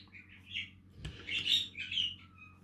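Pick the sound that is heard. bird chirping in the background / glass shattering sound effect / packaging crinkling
bird chirping in the background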